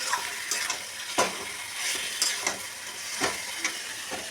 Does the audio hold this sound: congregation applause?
no